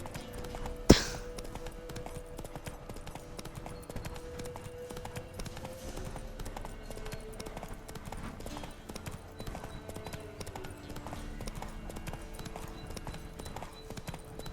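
Hooves of Roach, Geralt's horse in The Witcher 3, clip-clop at a steady walking rhythm throughout, moderately close and fairly quiet, with a soft ambient bed and one sharp click near the start.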